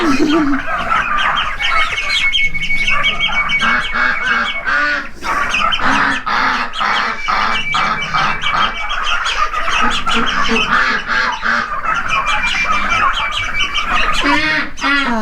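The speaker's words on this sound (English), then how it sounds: "And here's our turkeys." A crowded flock of 15 turkeys gobbling, chirping and clucking nonstop up close, a dense loud chorus of many birds at once.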